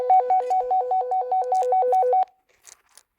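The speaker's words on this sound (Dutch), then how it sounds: "Wacht, ik ga bellen." A telephone gives an electronic two-tone warble that trills rapidly and steadily for about two seconds while a call is placed, then cuts off, leaving only a few faint clicks.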